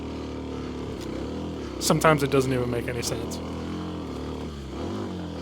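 Kawasaki KLX 300 dirt bike engine climbing a wooded single-track trail from almost no momentum, a steady low engine drone throughout with a brief louder burst in the middle, under someone talking.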